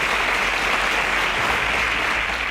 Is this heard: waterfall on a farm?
no